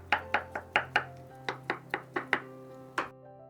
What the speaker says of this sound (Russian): Авокадо режу небольшими кусочками.